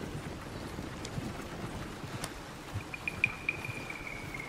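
Horse hooves in Red Dead Redemption 2 clop softly and irregularly at a distance over low rumbling background noise, with a faint tonal whine near the end.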